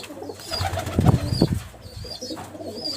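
Pigeons coo softly in a loft where breeding pairs are laying eggs, a few low throaty calls in the middle over quiet background rustling, with brief flutters of wings.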